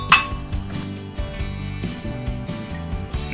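A hammer gives a few light metallic taps to free a brake rotor from the hub of a 2008 Saturn Vue. The sharp clinks ring out at the start and end over a steady low hum.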